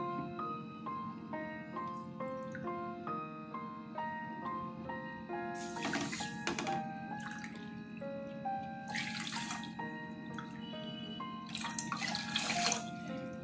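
Water pours into a pan of sugar for rasgulla syrup, a few bursts of splashing and trickling that come and go over steady background music.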